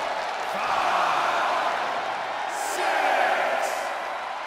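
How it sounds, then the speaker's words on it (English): A video game arena crowd in WWE 2K24 reacts during an NXT wrestling match, a broad swelling roar that rises and falls twice over a few seconds, with occasional sharp bursts of noise. "Dragunov drawing a big reaction from the crowd."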